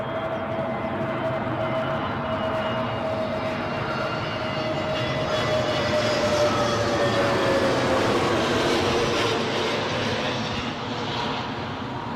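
A jet airliner roars through a go-around at London Heathrow, a loud continuous engine rumble and whine with a slowly falling tone, steady and close, with no talking.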